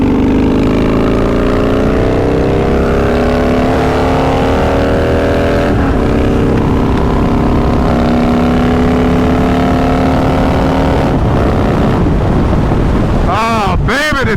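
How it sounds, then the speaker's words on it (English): A Harley-Davidson twin cam bagger motorcycle engine rumbles close and loud in a deep steady drone, its pitch slowly climbing, with wind buffeting the microphone and brief voices near the end. "Hang on, listen to the bike."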